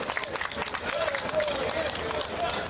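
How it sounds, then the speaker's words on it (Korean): A crowd claps and cheers at an outdoor Democratic Party campaign rally outside the Yeouido Post Office in Seoul. The applause is dense and steady for a few seconds, with talk and crowd noise mixed in. "박수 한번 부탁드립니다"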